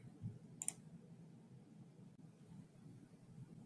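A single quiet mouse click on an Edit button on a web page, heard as one short crisp tick early on, then only faint room tone.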